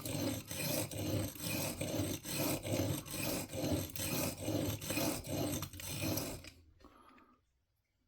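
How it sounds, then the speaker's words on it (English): A curved broadhead drawn across a fine stone on a KME sharpener, a close, even rasping scrape repeated in about a dozen regular strokes, then stopping into near silence. "Now we're taking a finer stone and we are refining those scratches and making them finer and finer as we go up in stones"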